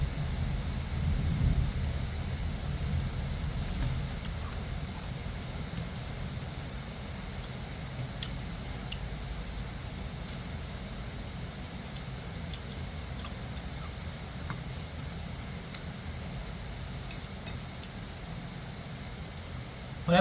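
Heavy rain falls in Mueang district, Uttaradit, Thailand, an even, unbroken wash of noise over a long stretch, a little louder at the start.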